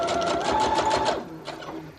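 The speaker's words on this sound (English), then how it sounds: "I'm just going to do that same thing where I sew the top" A sewing machine stitches across a decorated journal page, a fast, close, steady mechanical whir with a slight hum that eases off near the end.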